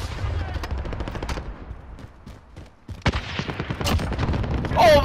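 Video game combat with an RPG: rapid gunfire crackles in dense bursts, thins out briefly, then returns louder with a heavy blast and a rising whoosh near the end.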